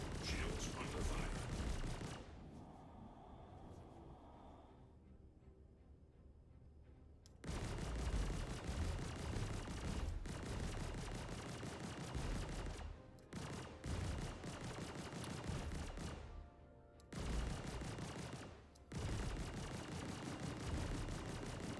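Sci-fi gunfire pounds against a ship's shields in a space video game, dense crackling bursts broken by brief lulls, loud and close with a low rumbling impact layer.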